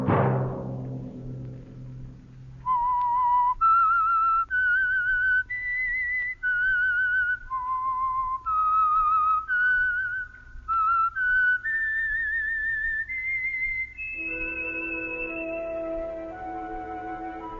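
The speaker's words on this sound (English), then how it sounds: "Let that whistle be your signal for the Signal Oil program, The Whistler" A lone melodic whistle, the signal tune for the Signal Oil radio program The Whistler, rises through a series of clear sustained notes, loud and close, before soft orchestral tones enter at the end.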